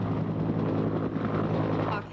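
A helicopter flying near a train derailment site, its rotor and engine noise a steady, fairly loud rumble that stays constant and fades slightly at the very end.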